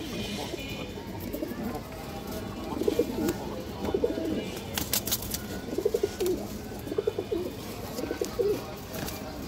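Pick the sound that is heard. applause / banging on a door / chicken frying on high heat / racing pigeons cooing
racing pigeons cooing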